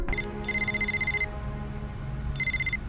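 A mobile phone rings with bursts of bright, warbling electronic trill, a short chirp then a longer burst and another starting, over a low hum of room noise; no one speaks.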